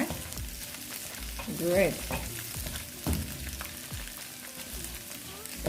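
Scrambled eggs for shrimp fried rice sizzle and fry in a pan, with soft stirring scrapes and a brief word spoken over the steady crackle.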